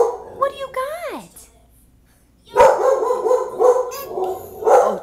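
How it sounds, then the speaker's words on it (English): A dog named Roxy barks and yips in short bursts, some high whining notes early, then a cluster of close, sharp barks, with people talking around it. "Is Roxy barking?"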